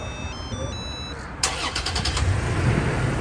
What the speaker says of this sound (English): I'm gonna go ahead and remote start it.